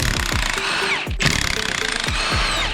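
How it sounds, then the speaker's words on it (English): A Milwaukee 1/2-inch impact wrench with a 19 mm socket hammers out flywheel bolts on a BMW E46 M3, loud rapid rattling bursts with a brief pause between runs, close up. "We're using our Milwaukee big 1/2-inch impact on a 19-inch socket"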